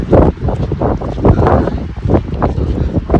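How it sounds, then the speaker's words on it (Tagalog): Strong wind in Canada buffets the microphone in loud, rumbling gusts that surge and drop irregularly, close and rough. "Biglang lakas ang hangin ah. Lakas ang hangin ngayon ah."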